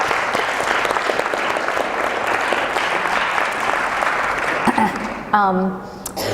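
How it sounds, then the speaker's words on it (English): An audience in a hall claps steadily for the people working behind the scenes, a dense even wash of applause that tapers off near the end as a speaker's voice takes over. "I think we should give an applause for all the people behind the scenes doing all the work"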